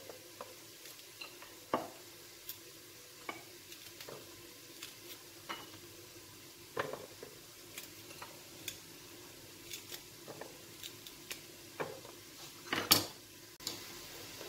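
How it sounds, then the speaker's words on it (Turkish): A knife cuts three green peppers into rings on a board in a home kitchen, making a steady series of soft, close chopping taps while onion and meat fry quietly in a pressure cooker nearby. "Ve biberlerimizi de yine halkalar halinde doğruyorum"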